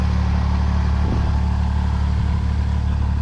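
A Fiat 480 tractor engine runs close by while hitched to a 600-litre sprayer. It makes a steady, loud, throbbing mechanical drone with a constant rhythmic chug and no pauses.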